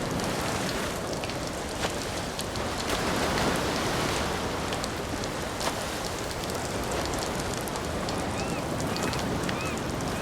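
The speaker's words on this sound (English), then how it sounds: "the crashing of the waves near the coastline" Waves crash near the coastline in the game Ghost of Tsushima, making a steady, dense wash of surf noise that stays even and full for the whole stretch, with no voices.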